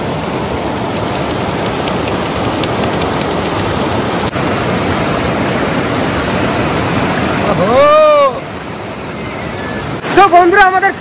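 A hillside waterfall rushes in a loud, constant roar throughout, with brief scraping and metallic sounds near the end.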